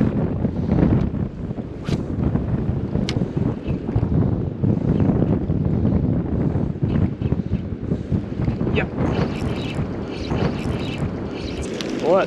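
Gusty wind buffets the microphone on a rocky Great Barrier Reef shoreline at low tide, a steady loud rumbling roar with water lapping faintly underneath throughout.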